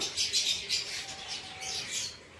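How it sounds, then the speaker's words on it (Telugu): Faint high chirps from African lovebirds repeat in quick bursts, soft and somewhat distant, with a low background murmur. "ఇవి కాక్టైల్స్ ఇవి ఆఫ్రికన్ లవ్ బర్డ్స్ అనుకుంటా"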